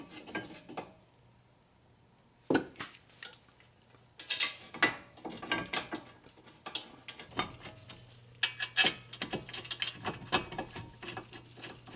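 A ratchet installs the front brake caliper bracket on a Toyota Avalon, giving close, sparse clicks and scattered metallic knocks in uneven bursts, with no one talking.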